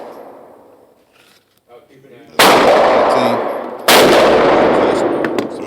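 A Glock 19 pistol fires two loud, sharp shots about a second and a half apart during a function test at a shooting range, each with a long echoing tail, following a faint voice and quiet stretch.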